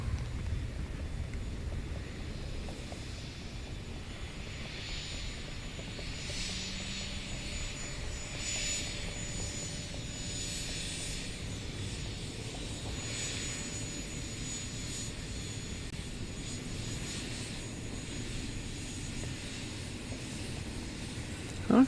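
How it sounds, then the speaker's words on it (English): Air France Flight 264 from Paris arriving at Incheon Airport, a distant airliner's engine rumble and whine holding steady and faint for over twenty seconds under open outdoor ambience. "That's Air France Flight 264, arriving from Charles de Gaulle Airport in Paris."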